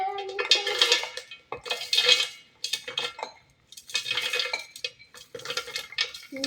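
A spoon mixes a ground dry fruit mixture for laddu in a metal bowl, rhythmic scraping and clinking strokes in bursts with brief pauses, close by, alone without speech.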